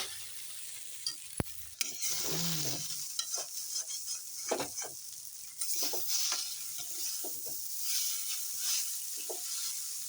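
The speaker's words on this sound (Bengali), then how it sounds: "আস্তে আস্তে নেড়ে উলট পালট করে ভেজে নিচ্ছি" Chow mein noodles with mixed vegetables and egg being stirred and fried in a pan, with a steady sizzle broken by repeated scraping stirs and clanks of a utensil against the pan, up close and with no talking.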